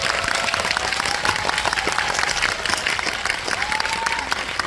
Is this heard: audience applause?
yes